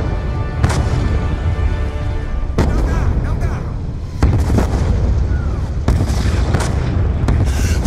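Mortar fire during a Call of Duty: Black Ops II battle: heavy booming impacts land every second or two over a constant roar of combat, loud and close.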